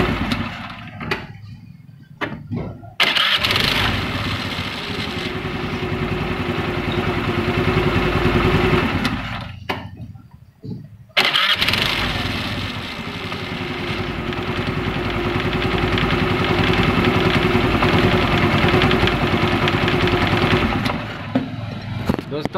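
A Honda Activa scooter is started on its self starter after a starter-noise fix. The engine catches and runs at a loud, steady idle, with a brief cut partway through before it fires up and idles again.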